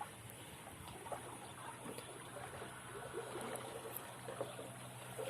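Water flows through an irrigation drain beside rice paddies in Sungai Besar, a low continuous trickling and gurgling stream heard close by at a soft, steady level without speech.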